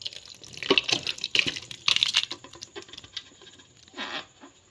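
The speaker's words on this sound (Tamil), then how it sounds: "நாங்கள் இப்போ அதே அளவில் இப்போ தண்ணி சேர்க்கோம்." Water poured into a rice cooker over 1 kg of biryani rice mixed with biryani masala: an uneven splashing and pattering stream in several bursts, close and fairly loud, with no talk.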